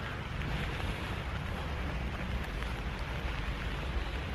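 Rain falling outdoors at Disneyland Paris, a steady dense hiss with wind-like rumble, constant and fairly loud with no pauses.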